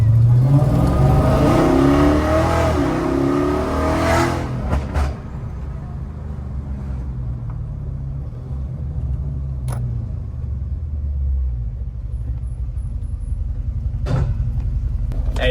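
A Dodge Scat Pack fitted with a loud aftermarket exhaust revs hard up close, a deep roaring rise and fall that then settles to a rumbling idle with a few sharp blips near the end.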